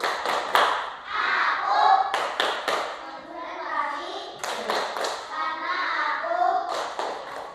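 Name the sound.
class doing a rhythmic concentration clap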